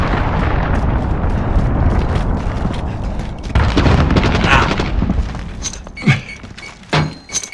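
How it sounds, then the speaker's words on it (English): In Call of Duty: Modern Warfare multiplayer, a cruise missile strike brings a dense rumbling roar of blast and debris, followed by a few sharp, separate thuds and pops as the noise dies away. "Enemy cruise missile"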